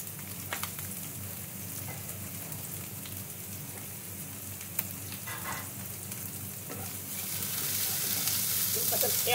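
Onions and garlic frying in a pan for pasta, a steady close sizzle and crackle that runs throughout and grows louder and brighter near the end, with occasional soft stirring clicks.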